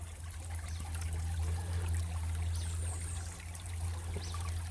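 Water flows steadily through the grates of a gold prospecting sluice, a continuous rushing trickle over a low outdoor rumble with no talking.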